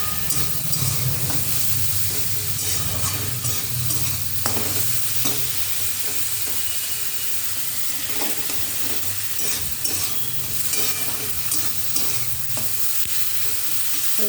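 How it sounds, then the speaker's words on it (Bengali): Curry for dal puri sizzles steadily as it fries with turmeric and salt, with close, continuous hiss and intermittent stirring scrapes throughout, no talking. "দিয়ে এবার এটা লাল লাল করে ভালো করে ভাজতে থাকবে।"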